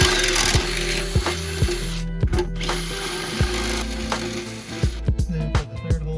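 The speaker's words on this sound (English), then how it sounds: "I'm just gonna use this step drill bit." A step drill bit whines steadily and loudly at close range as it widens a hole in metal, with repeated short clicks and knocks as the bit grinds in.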